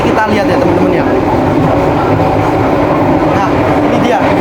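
A loud, continuous rumble of the Airlangga passenger train running at about 95 km/h, with steady broadband rail and wheel noise throughout. It sounds close and is heard alone, with no talk.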